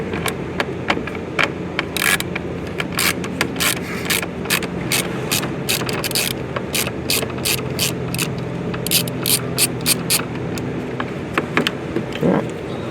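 Rapid ratchet clicking in repeated bursts as screws are backed out on a 2023-2025 BMW M240i during an adaptive cruise control installation, close and loud with short pauses between runs.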